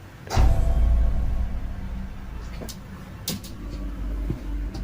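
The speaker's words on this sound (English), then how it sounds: "It sounds like her closet door fell." A closet door falls over in a house, landing as a loud, sharp thud with a rumbling tail, followed by quieter knocks and a few faint bumps in the room.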